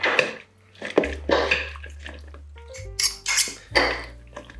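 A green bean and goat's cheese salad being tossed with dressing in a bowl, giving irregular clinks and scrapes of utensils against the dish with soft wet shuffling between them.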